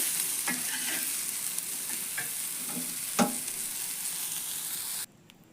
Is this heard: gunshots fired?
no